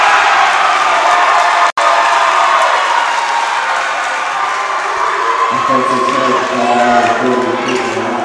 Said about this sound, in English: You can see the crowd go wild as that call was made.